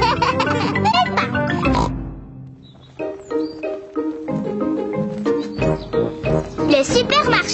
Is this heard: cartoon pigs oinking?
yes